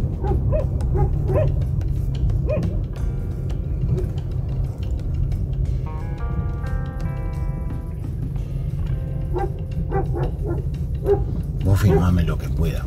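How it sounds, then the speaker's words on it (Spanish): Dogs bark intermittently, moderately near, around a farmhouse in a Mennonite colony in Guatraché, Argentina, over a steady low rumble, likely a vehicle, with people talking nearby and a brief metallic clatter. "Los perros."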